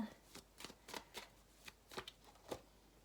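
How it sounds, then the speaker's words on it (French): Tarot cards shuffled and slid from the deck, a run of about seven short, crisp papery swishes spaced roughly evenly over three seconds, close and fairly quiet with no talking. "Et je vais tirer une deuxième carte."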